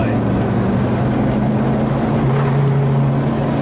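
Engine of a 1991 Subaru Sambar 4WD kei van runs at a steady drone, low humming tones under broadband road and wind noise from inside the cabin.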